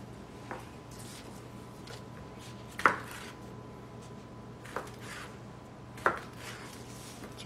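Sausages are cut into short lengths with a knife on a board, a few sharp, separate chops spaced seconds apart against a quiet kitchen background.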